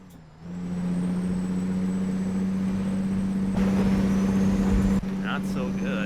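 A semi truck idles with a steady low engine drone, joined partway through by a sharp hiss of air brakes releasing; a person talks during it.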